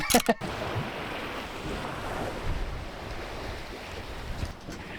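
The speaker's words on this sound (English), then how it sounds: "It's pretty choppy out here. I'd say it's verging on a 2-metre swell." Choppy waves in the English Channel wash and slap around a sailboat under sail in a near 2-metre swell, a continuous rushing surge with a few sharp knocks at the start.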